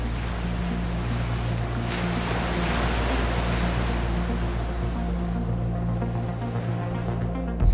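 Surf rolling in at a Southern California beach, a steady broadband wash of small and big waves with a low rumble and wind noise on the mic, continuous and fairly close, no talking.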